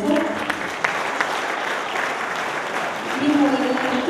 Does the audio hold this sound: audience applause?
yes